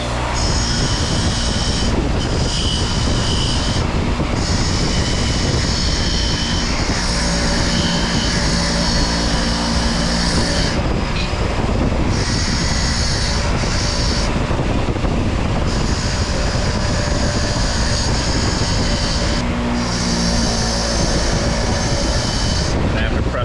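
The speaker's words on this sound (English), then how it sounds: "you can hit with the polishing pad if you don't like these little casting marks" Polishing pad buffing the casting marks on an old Holley carburetor gives a loud, steady, broadband whir that runs the whole time, with its pitch and intensity shifting slightly as the pad moves over the metal.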